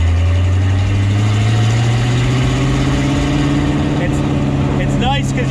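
A Schroll Coupe's engine cruising in first gear at low RPM around town, a steady, close, low droning hum that climbs slightly in pitch throughout.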